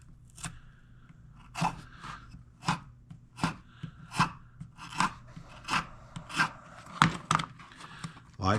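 Leather edge being beveled with a hand tool, a series of about a dozen short scraping strokes in an uneven rhythm, close and moderately loud with quiet gaps between them.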